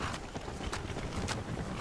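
Horse hooves galloping in the Skyrim video game, a steady run of clip-clop hoofbeats at moderate volume over a busy, noisy game soundscape with no talk.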